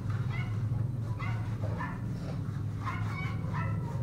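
A dog yips and whimpers in a quick series of short, high barks close by, over a steady low hum.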